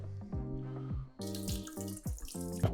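Starchy rice washing water is poured away into a sink in a steady splashing stream with gurgling bursts, close and alone.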